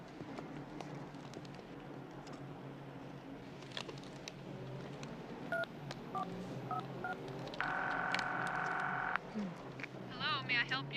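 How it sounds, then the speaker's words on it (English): Telephone auto-dial tones: a few short paired beeps, then a steady held tone of about a second and a half, then a fast burst of dialing blips. All of it sits under steady background noise and people talking. "Haven't seen one of these yet without some kind of auto dial."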